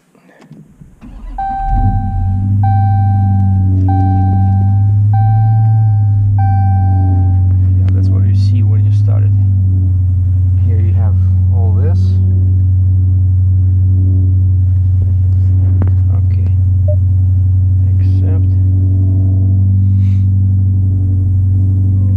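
A 2018 Dodge Challenger R/T 392 Scat Pack, with its 392 V8, starts up after a short chime sequence from the cabin, then settles into a loud, steady, deep idle rumble that continues under occasional talk nearby.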